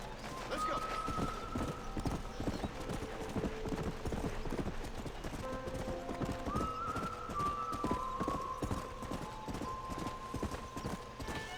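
Rapid hoofbeats clatter in a continuous galloping rhythm in Red Dead Redemption, with a horse whinnying over a busy game soundscape and a voice speaking now and then.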